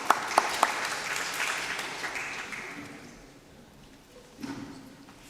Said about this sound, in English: Please clap to encourage people who are coming.